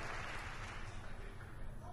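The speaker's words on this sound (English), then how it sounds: "he gets a nice round of applause from the crowd here" Crowd applause at a 2015 European Darts Trophy first-round match, a dense steady wash of clapping and crowd noise throughout.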